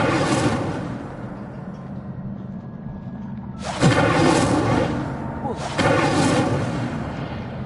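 An Incendio fire spell cast in the Hogwarts Legacy video game on PS5 bursts out twice with loud whooshing, booming blasts over a steady rumbling game background.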